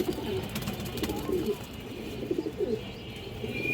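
Pigeons coo in a steady, low murmur at close range, overlapping one another through a busy loft of cream-eyed birds, with faint background noise throughout.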